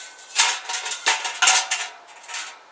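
Metal part set into a GSTOVE Heat View XL wood stove, making a handful of bright, close clinks and scrapes of metal on metal in an uneven rhythm, with no talking.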